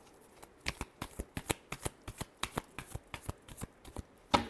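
Tarot cards are riffled and shuffled close up in a quick, steady run of crisp flutters, about four or five per second, with no voices over them.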